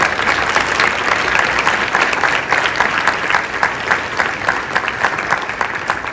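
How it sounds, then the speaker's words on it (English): Dense, steady applause from a large crowd at an awards ceremony, loud and continuous throughout with no pauses. "another round of applause for all the winners."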